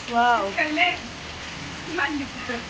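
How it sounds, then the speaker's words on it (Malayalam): Steady rain patters as a continuous hiss beneath a person talking nearby in short bursts. "നല്ല മഴ ദിവസമാണ് കേട്ടോ"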